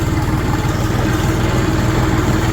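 A diesel RD-244 tractor engine runs steadily at close range, a low throbbing idle with a regular pulsing rumble and no talk over it.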